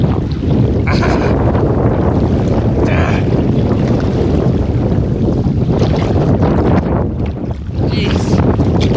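Strong wind roars steadily across an open canoe on the water during rain, a loud, constant buffeting that fills the whole stretch, with faint voices briefly underneath.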